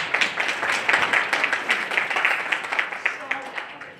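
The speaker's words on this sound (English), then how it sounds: "So round of applause." An audience at a cybersecurity panel event bursts into dense, close applause, with many hands clapping steadily and then tapering off slightly.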